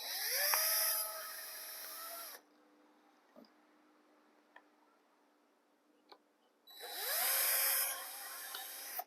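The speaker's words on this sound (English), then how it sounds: "You take your drill bit, which is just the same size as the wire," A power drill fitted with a 1/8 inch bit bores holes in a beehive frame, whining up in two loud bursts separated by a quiet pause with a few faint ticks and taps.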